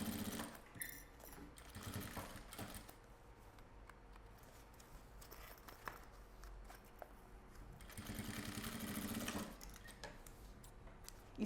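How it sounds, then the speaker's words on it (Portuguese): A sewing machine stitches the seams of a maxi box necessaire, running in steady bursts with a louder spell near the end, close and alone without talk. "Entra na máquina. Um pé de máquina."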